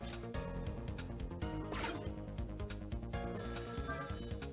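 A telephone rings in the video game Ghost Trick: Phantom Detective, a repeated trilling bell pattern heard loud and steady over dense game music throughout.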